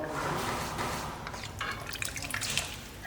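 Water is poured into tamarind kuzhambu simmering in a pan, a close splashing and trickling that grows brighter and more spattery toward the end, with no one talking.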